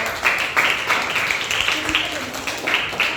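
Classroom applause for a student group at an elementary school, a steady patter of many hands clapping at moderate level over the full stretch, with a few louder bursts.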